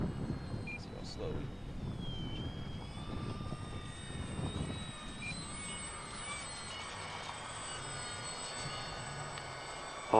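An E-flite UMX Draco micro RC plane makes a pass, its electric motor whining with a rising and falling pitch as it flies by outdoors, with wind noise and people talking over it.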